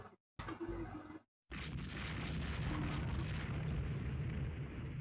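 A torpedo strikes a warship in the naval strategy game Rule the Waves 2, a sudden dull blast followed by a sustained rumbling roar that holds steady for several seconds after a brief gap.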